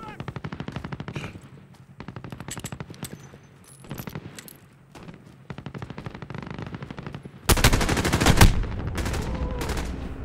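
Incoming gunfire in a video game rattles in repeated bursts of rapid automatic shots at varied distances, ending in a louder, denser close barrage.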